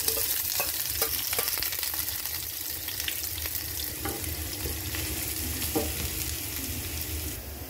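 Chopped small shallots frying in a pan while being stirred, a close continuous sizzle with repeated light scraping strokes and no voices.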